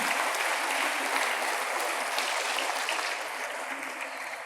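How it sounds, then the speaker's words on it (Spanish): Congregation applause in a church setting, a dense, sustained clapping from a crowd that stays steady throughout and fades slightly toward the end. "Un aplauso al Señor"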